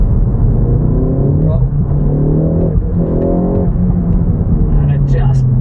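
A 2020 Ford Focus ST engine drones loud and steady under throttle from inside the cabin, its pitch rising slowly as the car accelerates, a continuous close rumble without pauses.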